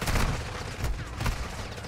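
Carrack .300 gunfire in Modern Warfare 2: dense, loud shots in rapid succession over a rumbling battle backdrop, with no pause across the short burst.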